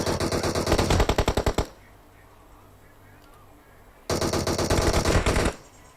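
Automatic gunfire in PUBG Mobile, two loud rapid bursts of closely spaced shots, the first lasting about a second and a half and the second just over a second after a quiet gap.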